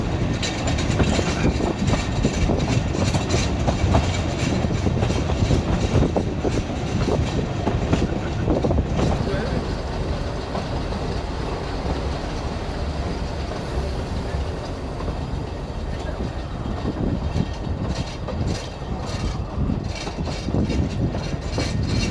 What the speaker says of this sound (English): The locomotive runs around the train and after a brief pause sets off back down to Abergynolwyn.